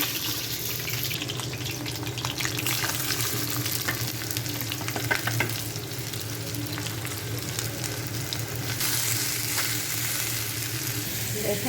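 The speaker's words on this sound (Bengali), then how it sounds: "ইলিশ মাছের ফুল দিয়া টমেটো ভাজি দেখেন" Hilsa fish roe and tomato fry in hot oil in a home kitchen, a loud continuous sizzle with stirring scrapes throughout, close by and with no talking.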